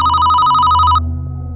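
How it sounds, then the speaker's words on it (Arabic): A phone ringtone chimes loudly and close for about a second, a steady bright electronic ring that cuts off abruptly, leaving a low hum beneath. "فجأة وأنا بقرأ الرسالة تليفوني رن"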